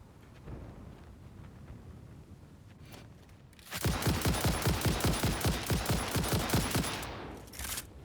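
A hyper cannon fires in the Satisfactory factory game, a sudden loud burst of rapid repeated blasts after a few seconds of quieter rumbling ambience, holding for about three seconds before fading, with one last short burst.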